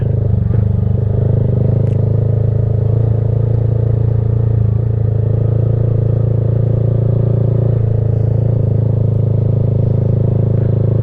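A motorcycle pulls away slowly as the clutch is let out, with a steady low engine hum close by and occasional clatter and scraping noises, and no voices over it.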